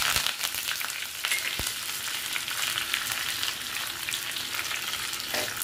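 Mustard seeds and curry leaves sputtering in a spoonful of hot oil in a kadai for tempering a Konkani bittergourd curry, a dense close crackling sizzle with sharp pops scattered throughout, loud and without talking.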